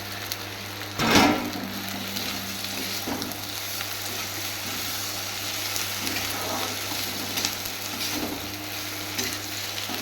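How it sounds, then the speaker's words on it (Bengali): Fried pointed gourd pieces drop into a pan of frying peanut, mustard and poppy seed paste with a loud burst of sizzle, then a steady hiss of frying oil continues with faint stirring, no voices. "এবার আমি ভেজে রাখা পটলগুলো দিয়ে দেবো।"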